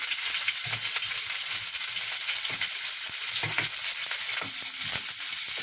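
Onions and callaloo frying in a pan for Jamaican pasta, a constant close sizzle broken by occasional stirring clatters and scrapes.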